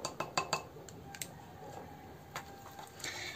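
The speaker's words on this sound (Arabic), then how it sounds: "ثم نحاول الخلط جيدا" A spoon mixes a homemade skin-whitening paste in a bowl, making a few quiet clinks and scrapes in the first moments, then faint sporadic taps against a hushed room with no speech.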